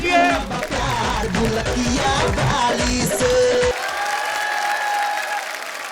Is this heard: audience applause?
yes